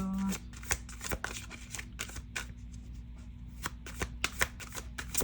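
Tarot cards shuffled for a reading, a run of crisp riffling and snapping bursts close by, repeating irregularly over a steady low hum with no talk.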